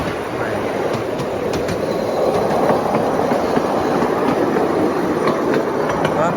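A passenger train carries riders toward a beach resort, with a steady loud rolling rumble and clatter of wheels on track and occasional squeals and clicks, continuous throughout.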